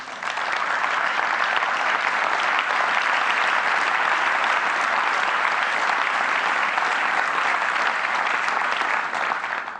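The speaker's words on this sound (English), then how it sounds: "That round of applause is actually for the doctors and nurses of the hospital who took care of Avalile" A large conference audience applauds the hospital's doctors and nurses in a loud, dense, continuous ovation that stays steady throughout with no talk over it.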